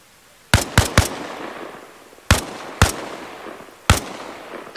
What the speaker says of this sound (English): It sounds like that gunfire's coming from my left